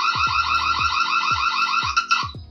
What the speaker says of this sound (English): So if there is someone lurking about, just hit that siren. It should scare them.